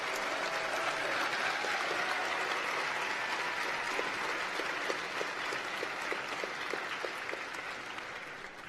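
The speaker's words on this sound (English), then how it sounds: "please, another big round of applause for all my colleagues here" A large audience applauds steadily, the clapping sustained and even at a moderate distance, with no voices standing out, at a university graduation ceremony.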